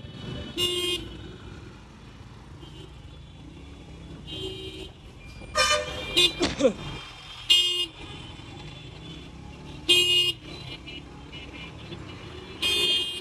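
Car horns honk in a traffic jam at Mirpur 10, Dhaka, a series of separate short and longer toots from nearby vehicles over a low rumble of idling traffic.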